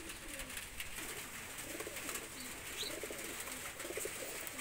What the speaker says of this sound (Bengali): তো এই দুইটা কবুতর আমি ছেড়ে দেখাচ্ছি